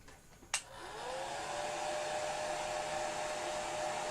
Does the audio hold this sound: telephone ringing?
no